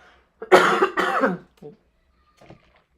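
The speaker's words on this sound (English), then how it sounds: "got me coughing again" Two harsh coughs close together, followed by a couple of faint, brief throat sounds trailing off into quiet.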